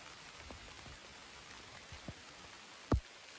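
Rain falling during a hike, recorded on an old Nokia phone in the visual novel game Petrichor, a steady soft hiss with a few faint drip ticks and one sharp louder knock near the end.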